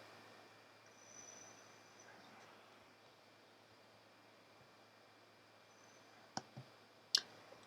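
A couple of sharp computer mouse clicks near the end of a quiet stretch, crisp and close, against faint background hiss.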